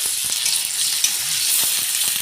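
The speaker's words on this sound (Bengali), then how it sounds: "তেল গরম হয়ে গেছে কাঁচা লঙ্কা পেঁয়াজ" Chopped green chillies and onion fry in hot oil in a home kitchen, giving a continuous bright sizzle with occasional soft pops and a few stirring scrapes, close and steady with no talking.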